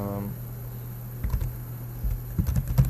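Keys clatter on a computer keyboard while a certificate is typed in Microsoft Word, quick irregular clicks growing busier toward the end over a steady low hum, with no talking.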